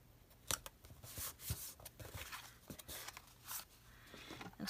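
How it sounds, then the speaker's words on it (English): Scissors snip and trim paper for a journal page, a run of quiet, close crisp cuts and rustles with no talking. "we'll trim this down to fit on there"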